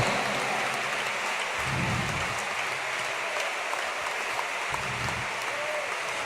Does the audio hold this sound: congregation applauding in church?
yes